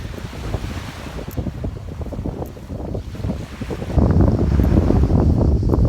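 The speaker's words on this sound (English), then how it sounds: "the relaxing sounds of the gentle cascading waves" Steady wash of waves against the Corfu shore with wind buffeting the microphone, growing louder and fuller partway through.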